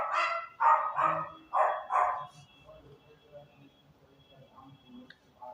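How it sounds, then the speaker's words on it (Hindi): Street dogs bark outdoors in a quick cluster of four or five loud, sharp barks, followed by fainter scattered yips and distant barking from a neighbouring lane. "ये गली के कुत्ते भौंक रहे हैं,"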